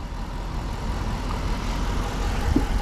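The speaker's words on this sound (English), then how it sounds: "We'll give an exhaust test right now" A 2021 Jeep Grand Cherokee L Overland's exhaust gives a steady, loud, low rumble, close by, with no talk over it.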